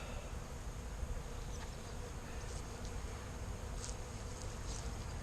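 A steady, dense buzzing of many honey bees fills the scene, constant and close, with a few individual bees passing nearer now and then.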